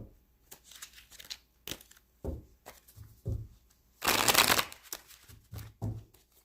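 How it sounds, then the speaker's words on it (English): Tarot cards shuffled by hand in a quiet room, coming as several short riffling bursts with a long, loud flurry in the middle and brief soft pauses between. "I have to shuffle these up pretty good"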